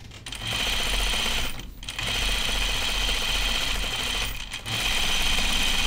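A sewing machine runs steadily along a jacket seam, its rapid needle drone continuous and close, pausing briefly twice before resuming.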